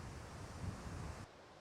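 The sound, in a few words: wind blowing over outdoor garden microphone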